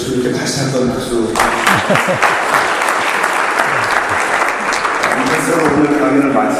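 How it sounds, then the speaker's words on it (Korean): A lecture audience applauds the professor, a full room of steady, loud clapping that carries on throughout, with a little chuckling mixed in and a voice speaking over it. "귀한 강의해 주신 교수님께 다시 한번 박수."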